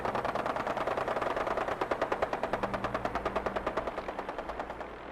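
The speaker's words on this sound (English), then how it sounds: "What are they shooting at?" Sustained automatic gunfire in the video game Fallout 4 rattles in a fast, even stream of shots for several seconds, moderately loud and slightly distant, with no voices.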